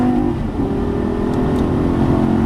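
A Lamborghini Gallardo Superleggera LP570-4 accelerates hard on a race track, its engine roaring loud and close in a dense, continuous drone with a slight dip where it upshifts.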